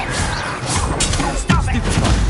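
A spell-cast blast in the wizarding video game Hogwarts Legacy, a sharp crashing impact around midway over a busy backdrop of game effects and ambience, loud and close.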